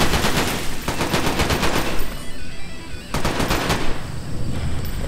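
Rapid automatic gunfire in the VR zombie shooter Chornobayivka VR, loud, close and sustained across the clip, with a brief gap near the middle before the bursts resume.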